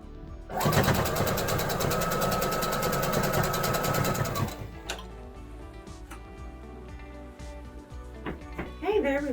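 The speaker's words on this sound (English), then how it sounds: "We'll squish it down a little bit, and we will sew that edge there." A sewing machine runs in one steady, fast-ticking burst of about four seconds while stitching the edge of a pillow, close and clear, then stops; a voice speaks quietly afterward.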